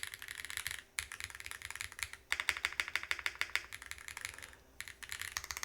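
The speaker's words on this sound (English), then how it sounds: "You can hear it hitting the polycarbonate piece that it's sitting on." Alpha switches on a mechanical keyboard with a polycarbonate plate clack in fast, bright bursts of keystrokes. The typing comes in uneven runs separated by short pauses and sounds close and crisp.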